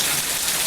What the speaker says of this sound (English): It's hail. It's like frozen.